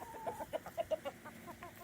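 A chicken clucks in a quick series of short, soft notes, fairly faint and a little distant, outdoors in the snow, with no talking.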